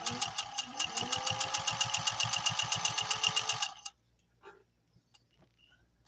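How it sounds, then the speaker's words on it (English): A Singer 201-2 sewing machine runs a rapid, even stitch for several seconds, its rhythmic mechanical clatter close and steady before it stops abruptly, leaving faint handling clicks. "Let's do the same stitch with a little subtle upper tension adjustment."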